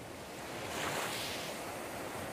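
Sea waves wash onto the Atacama Desert coast at Chanavaya, a soft continuous surf that swells briefly in the middle before settling, heard alone at a low, distant level.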